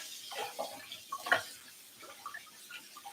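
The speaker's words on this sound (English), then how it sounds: "Because I've been using a lot of fresh parsley. So I thoroughly rinse it." Fresh parsley being thoroughly rinsed under running tap water to remove sand, a faint, steady faucet trickle with soft splashes and a few brief clinks, heard close with no talk.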